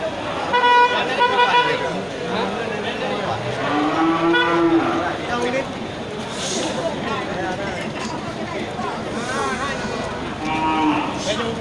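Aceh cattle lowing as they are unloaded, with several loud moos over a busy background of voices talking and an occasional vehicle horn.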